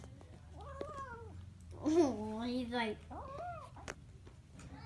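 A Bengal kitten meows several times in short rising-falling calls, one longer and louder cry in the middle, close to the mic with a person briefly speaking.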